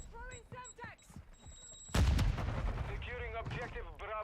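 Grenade blast in Call of Duty Modern Warfare II, a sudden loud boom breaking in midway after quieter game clicks and chirps, followed by rumbling debris and scattered game effects.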